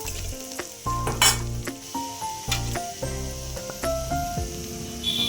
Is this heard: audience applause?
no